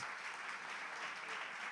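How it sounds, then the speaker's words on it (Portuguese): A church congregation gives a round of applause during a Sunday celebration service, a faint, even wash of many hands clapping heard from a distance. "Queria que a igreja desse uma salva de palmas."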